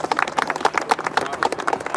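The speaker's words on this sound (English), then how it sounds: "let's give a big round of applause for his remarks" Scattered crowd applause at an outdoor flag-raising ceremony, brisk overlapping claps in a fairly even rhythm, moderately close, with faint voices mixed in.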